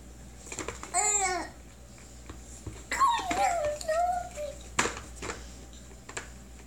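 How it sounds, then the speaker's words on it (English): Pet dogs being fed by a toddler give short whimpers and yips, close and fairly loud, mixed with a small child's babbling and vocal sounds in a home. "I keep trying to catch him feeding the doggies"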